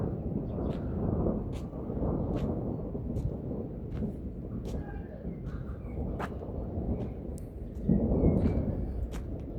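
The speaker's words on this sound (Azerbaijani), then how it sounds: "Deyəsən ildırım düşdü yan." Thunder from a nearby lightning strike rolls as a long, deep rumble outdoors, swelling again toward the end, with faint scattered clicks over it.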